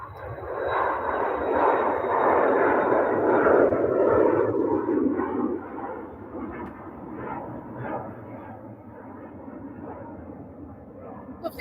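A KLM airliner at Manchester Airport roars loudly at first as its jet engines pass nearby, then fades into a lower, more distant rumble, with a voice speaking over it.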